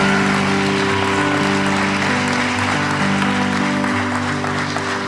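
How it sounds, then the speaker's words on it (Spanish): A church congregation at a workshop service applauds steadily and evenly throughout, over sustained music chords playing underneath. "Vamos a darle un aplauso al Señor."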